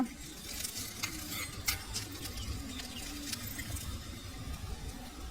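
Potato masala filling being stirred and sautéed in a pan for masala dosa, a steady close sizzle with scraping spoon strokes throughout and no talk.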